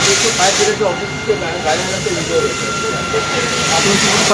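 A large fire consumes vehicles, including a container, at a housing society in Chandanwadi, Thane, producing a steady roaring hiss that continues throughout while someone speaks over it.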